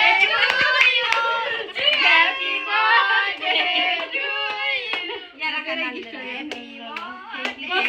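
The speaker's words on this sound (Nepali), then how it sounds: "ताली बजाऊ छोरी, ताली बजाऊ" A little girl claps her hands at a home birthday party, her quick claps scattered through a dense wash of chattering and singing voices that fill the room nearby.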